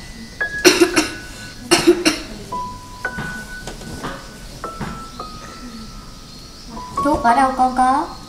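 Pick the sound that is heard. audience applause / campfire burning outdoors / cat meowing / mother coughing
mother coughing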